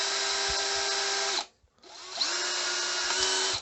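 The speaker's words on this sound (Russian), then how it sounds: "Здесь сейчас сделаю отверстие побольше." A cordless drill with a 7 mm bit widens a hole in an old gas burner part. Two close, loud, sustained whirring bursts are split by a short pause.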